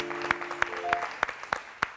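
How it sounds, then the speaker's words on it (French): Sharp, evenly spaced claps ring out about three times a second for the writer and cultural figure Serge Billet on a live show, with a faint tonal sound lingering beneath the first beats. "Serge Billet qu'on applaudit très fort."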